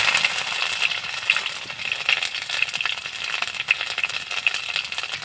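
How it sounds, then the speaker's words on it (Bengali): Crushed ginger and garlic sizzle steadily in hot oil with cumin, black pepper, dried chilli and bay leaf, a continuous close frying hiss with small pops and no talk. "এবার দিয়ে দেবো আদা রসুন থেতো করা।"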